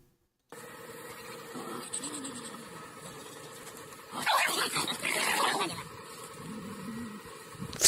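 A dog tangled in a net barks and whimpers in short bursts against steady background noise, with a louder, busier stretch in the middle and faint voices.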